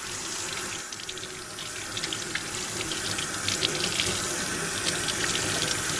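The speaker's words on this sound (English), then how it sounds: "Now I'm just gonna rinse it real quick." Fluke fillet rinsed under a running kitchen tap, a steady close hiss of water spilling over the flesh into the sink, constant and unbroken with a slight swell toward the end.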